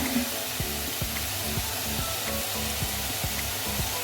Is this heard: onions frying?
yes